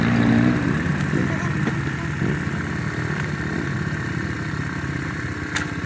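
A kid's dirt bike engine revs with a little gas at a motocross track, a steady mid-pitched buzz under an adult's nearby talk, rising slightly near the start and holding loud throughout.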